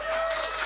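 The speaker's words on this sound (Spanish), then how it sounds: "¿Pueden aplaudir, por favor?" Brief burst of clapping from a live podcast audience, a dense patter of hand claps lasting under a second.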